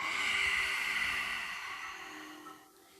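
A long, slow exhale with a soft, breathy hiss like ocean waves, as in yoga ujjayi breathing, close to the mic and gradually fading away.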